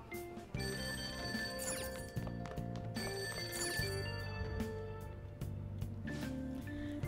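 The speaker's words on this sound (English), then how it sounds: "That ringing sound isn't coming from my cell phone. I hear it coming from downstairs." A store telephone in a video game rings downstairs, its repeated bell tones sounding steadily over a busy background of music and ambient game sound for several seconds.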